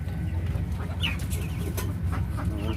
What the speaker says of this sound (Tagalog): Yan chicken native.